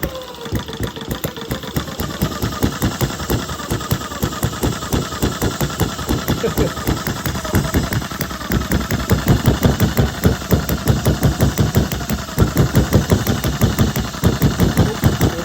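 An old single-cylinder Retrol HM-01 hit-and-miss engine chugging steadily nearby, with rhythmic loud pops and knocks throughout and no talking.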